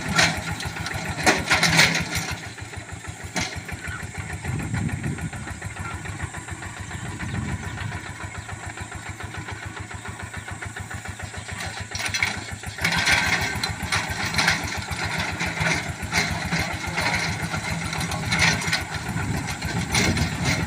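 A Kubota KRT140 4x4 small tractor running slowly in second gear while tilling weeds in a lime orchard; its engine drones loud and close without a break, with a slightly rougher surge near the start and again around the middle.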